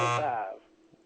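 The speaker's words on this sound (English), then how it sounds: "turn the stupid buzzer off" A short harsh electronic buzzer on a sports talk show blares for about half a second, then cuts off into near silence.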